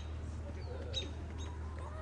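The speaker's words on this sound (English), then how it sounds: "It's those robins who are yelling at me." Robins call outdoors at a forest preserve gathering, giving a few faint, short chirps that rise above a steady low hum of background noise.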